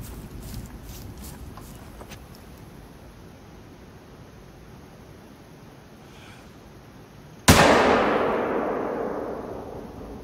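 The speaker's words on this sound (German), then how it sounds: "Das war ein unnötiger Schuss." A single loud rifle gunshot rings out in the hunting game theHunter: Call of the Wild, a sharp crack with a long decaying echo over steady savanna ambience.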